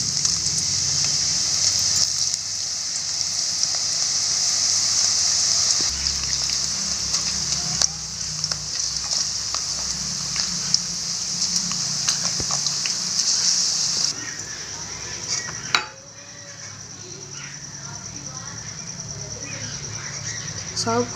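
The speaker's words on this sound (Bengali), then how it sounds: "বাকি খোসাগুলো আমি এভাবে ভেজে নেব।" Potato peels fry in hot oil with a steady, bright hiss and sizzle, crackling close by. The sizzle softens and thins near the end.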